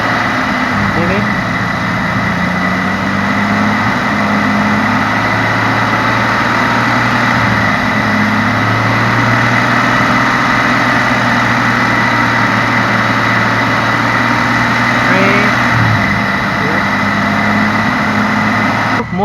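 A Jeep XJ engine holds a steady raised idle at about 2000 rpm during a Seafoam carbon cleaning, droning evenly throughout with a constant low hum and no change in pitch.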